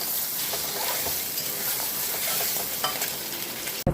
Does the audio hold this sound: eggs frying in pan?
yes